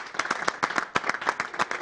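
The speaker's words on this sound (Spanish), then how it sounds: "Voy a dar un aplauso yo" One person clapping hands during a live stream, a run of quick, moderately loud claps in an uneven rhythm, with no talk over them.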